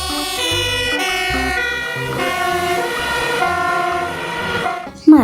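Toy fire ladder truck playing its electronic siren tune, a bright tonal melody of shifting steady notes with harmonic buzz, close and fairly loud, ending with a sharp click.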